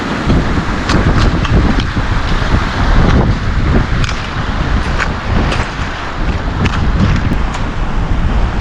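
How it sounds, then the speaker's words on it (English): Strong, steady wind buffets the microphone on the summit of a cinder cone, Eiler Butte in Thousand Lakes Wilderness, a continuous loud roar with gusty rumble and no voices. "Wind is really booking it"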